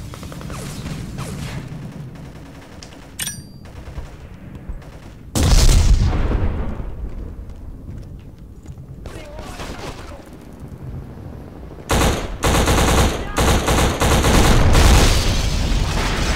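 Explosions and gunfire erupt in the Xbox shooter Black on hard mode, with heavy booms and crackling bursts of shots in several loud waves separated by quieter stretches of distant firing.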